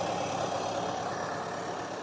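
Tractor engine idling after a single hand-crank start, a steady low chugging drone held evenly for a couple of seconds, close and alone.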